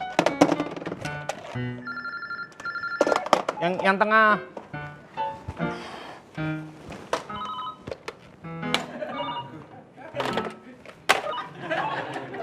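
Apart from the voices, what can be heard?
telephones ringing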